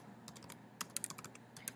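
A web link being typed on a computer keyboard, a quick run of faint, close key clicks in an irregular rhythm in an otherwise quiet room.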